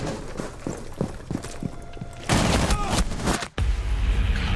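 Rainbow Six Siege gunfire on the Skyscraper map in a team deathmatch secure-area round: scattered single shots and thuds, then a dense, loud burst of rapid automatic fire, a brief cut, and more heavy shooting.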